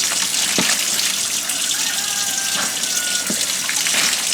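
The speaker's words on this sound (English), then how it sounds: "that's why you hear the water or see the water running" Water runs steadily from a kitchen tap while pork chop suey is being cooked, a loud continuous gush with a few faint clinks over it and no talk.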